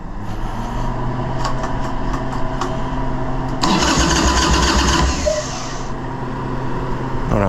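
A 1981 Harley-Davidson Ironhead Sportster with weak batteries and the choke pulled cranks steadily, then catches and roars louder for a couple of seconds before easing back to a rough running rumble, close by.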